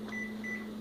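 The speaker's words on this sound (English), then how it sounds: "Lock it up and just throw it in the microwave." A microwave oven runs while heating a meal-prep dish, giving a steady low hum with a constant tone, faint and close, with no talking over it.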